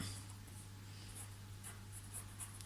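A pen scratches across paper during a class 8 mensuration math lesson, faint short strokes and scribbles repeating over a low steady electrical hum in a quiet room.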